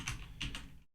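Keyboard keys clatter in two quick bursts at a computer during a C programming session on Linux, close and fairly quiet, with no talking, then the sound cuts to silence.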